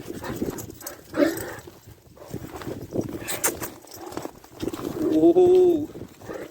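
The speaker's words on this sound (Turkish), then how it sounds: "Bunlar da bizim köpeklerimiz" Dogs whimpering and making short cries nearby, with pigeon-like cooing and people talking intermittently in the background.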